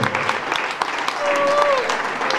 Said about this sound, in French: Sous vos acclamations, nous accueillons le témoignage